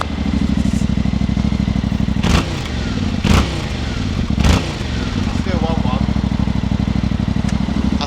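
A deep, steady Akrapovic motorcycle exhaust rumble from a 2025 Yamaha Tenere idles close by, with a few brief louder blips breaking the even throb.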